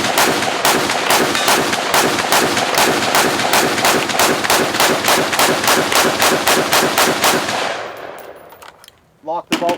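A rifle fitted with a Law Tactical ARIC fires a rapid magazine dump, around two dozen evenly spaced loud sharp shots close up with ringing echo, ending in a brief quiet and a few metallic clanks.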